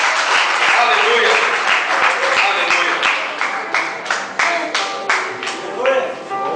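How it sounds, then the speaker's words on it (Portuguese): A church congregation gives a round of applause, a dense wash of clapping that breaks into sharper individual claps as it fades, with a preacher's voice over it. "Uma salva de palmas para o Senhor"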